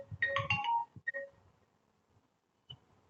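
A mobile phone rings during an online class, playing a loud, short melodic ringtone phrase. Quieter notes follow, then silence, then one brief beep near the end.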